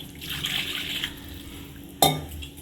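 Water poured into a pan of masala for fish curry, a soft continuous splashing pour that fades out, then a single sharp clink of the vessel.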